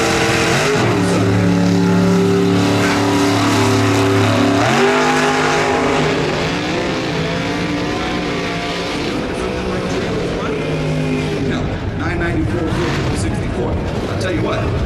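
Super Gas drag racing car, an 8.90 roadster or door car, making a solo bye run at the NHRA Sonoma Nationals, engine roaring loud then dropping through gear changes and fading, under an announcer's commentary.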